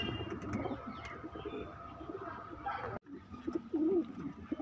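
Madrasi pigeons coo in soft, repeated throaty calls from a flock of around twenty birds kept together, the cooing close and continuing with a brief break partway through.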